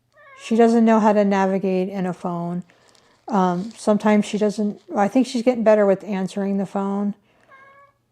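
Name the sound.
cat meowing, wanting treats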